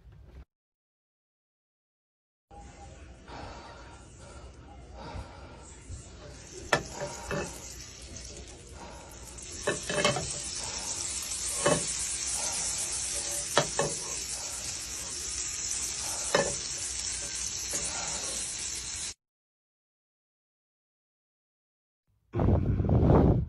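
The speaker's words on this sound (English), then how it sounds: "I love the sound the butter makes when it sizzles." Butter sizzles and crackles as it melts in a hot pan, a steady broadband hiss with scattered pops and occasional stirring, running for about sixteen seconds between silent gaps with no talking.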